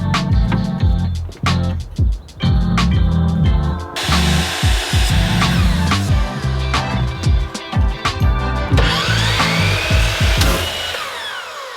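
A large-bladed power saw cuts wood miter pieces for a bedroom makeover, with repeated loud whining cuts and short pauses as the blade spins up and down, plus bursts of high-pitched cutting noise.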